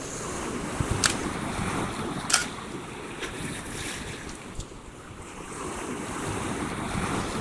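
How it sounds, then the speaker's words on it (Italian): Sea waves wash and break steadily on a coastal beach under gusty wind, with a few sharper splashes and surges breaking through the continuous roar of the surf. "e onda calante."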